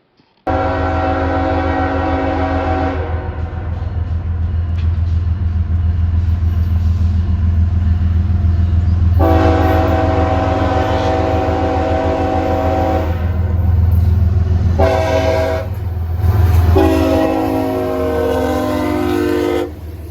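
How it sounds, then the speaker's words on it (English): A CSX GE ES44ACH locomotive leads an eastbound mixed freight train, its horn sounding in long loud blasts over the steady rumble of the engine and rolling cars passing close by. "the locomotive leading this eastbound mixed freight was CSX 954, which is a GE ES44ACH"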